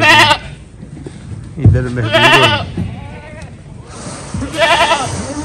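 Goats and bucks in a farm pen bleat loudly and close by, several wavering calls across the stretch, with someone speaking briefly between them.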